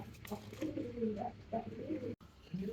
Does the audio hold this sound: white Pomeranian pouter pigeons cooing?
yes